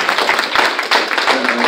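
An audience at a team testimonial event breaks into applause, a loud, dense patter of clapping that runs throughout.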